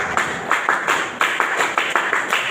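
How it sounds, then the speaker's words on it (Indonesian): A group of Pramuka scouts claps in a tight, rhythmic pattern, with regular bursts of many hands striking together, loud and close, for a few seconds. "Tepuk pramuka."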